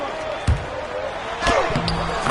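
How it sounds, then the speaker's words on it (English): A basketball banks in off a glass backboard in a Los Angeles game arena, giving a sharp thump and rim-glass bang followed by a second impact, all under steady crowd noise and a commentator talking. "Banked in off the glass."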